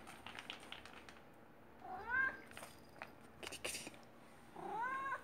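A Maine Coon cat meows twice, a rising drawn-out call near the middle and another at the end, fairly close, with faint background rustle and a quiet voice nearby.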